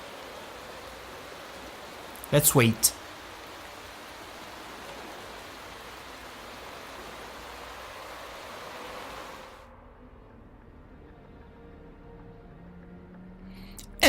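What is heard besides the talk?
rain in a racing video game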